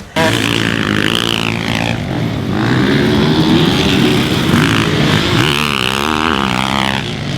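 2019 Yamaha YZ450F motocross bike engine revving hard and loud, its note rising and falling through gear changes as the bike runs nearby without pause.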